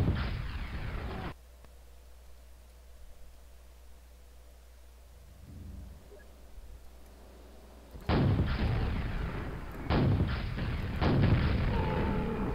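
Rockets fired at enemies in a video game make a burst of rough, roaring blasts, then a long lull with a low hum, then several more loud overlapping launch blasts in quick succession.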